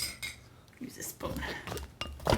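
A spoon scrapes and clinks against a container of frozen smoothie made with vanilla whey protein powder and chia seeds, giving irregular, close scraping bursts and knocks, with a voice speaking briefly alongside.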